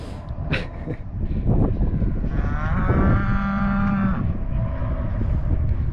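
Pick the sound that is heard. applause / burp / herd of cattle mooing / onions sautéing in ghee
herd of cattle mooing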